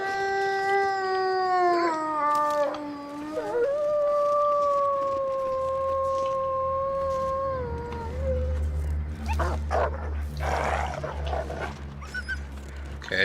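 Wolves howling in the video game The Long Dark, a long sustained wavering howl with a pitch dip and rise, loud and near, followed by lower rumbling and scuffling noises, with some speech.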